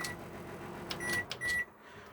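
A microwave oven runs inside a Swift caravan with a steady low hum. Several short electronic beeps sound near the end before the noise cuts off.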